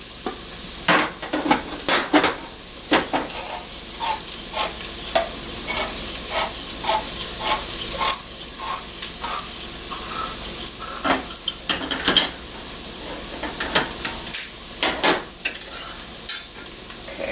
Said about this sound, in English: So these ones are the peeled whole tomatoes going in first.